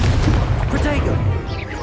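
Incendio fire spell cast in the video game Hogwarts Legacy: a loud, sustained burst of low booming roar lasting the whole moment, with crackling flame texture and game sounds layered over it.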